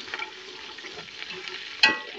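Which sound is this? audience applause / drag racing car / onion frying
onion frying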